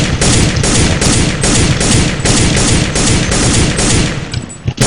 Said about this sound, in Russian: Вот калаш. Вот такие у него звуки измененные.